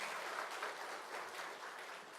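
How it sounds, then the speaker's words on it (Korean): A church congregation at a Korean Easter Sunday service in 2018 applauds together, producing an even, continuous patter of many hands that sounds soft and somewhat distant, with no speech on top. "다시 한번 영광의 박수 올려드리겠습니다"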